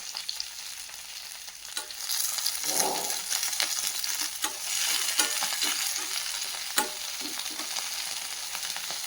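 Ingredients sautéing in a pan while curd rice is being made, a quiet continuous sizzle with a swell of frying and scattered stirring knocks, heard close with no speech.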